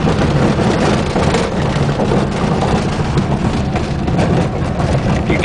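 A Volkswagen Super Beetle engine drives down a driveway, a loud, steady, close rumble with wind and road noise throughout and no talking.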